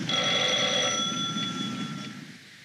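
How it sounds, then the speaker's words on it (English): A telephone rings with a bright, close electric bell tone that rings out for about two seconds and then fades away, alone with no talk. "Just then, the telephone rang"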